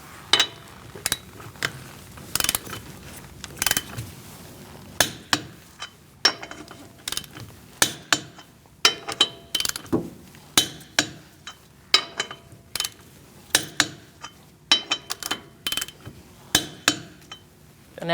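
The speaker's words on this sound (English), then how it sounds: "Using a 19mm socket, we're going to torque our wheels to 100 foot-pounds." Lug nuts on a Chevrolet Cruze wheel being tightened with a torque wrench and a 19mm socket after a front wheel bearing and hub replacement, making sharp metallic clicks and clinks in an irregular steady series, close and alone.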